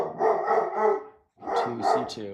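Dogs bark in two quick bursts of loud, close woofs and yips, with a brief silent gap between them and a voice mixed in.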